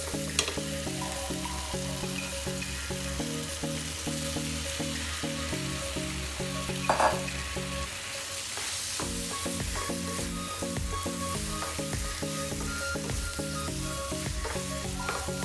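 Steady loud sizzling of penne pasta added to arrabbiata sauce frying in a pan, with stirring and scraping and occasional clinks, continuing throughout.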